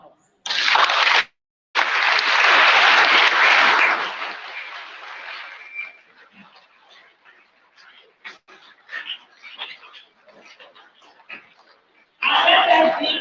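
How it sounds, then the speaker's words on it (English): First-year students at a senior high school orientation applaud themselves in loud bursts: a short clap burst, a longer sustained round, then quiet scattered sounds before another burst of clapping at the end. "let us applaud for ourselves."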